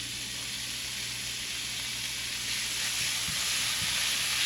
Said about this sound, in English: to your hot skillet, you're going to add very, very fine cut onions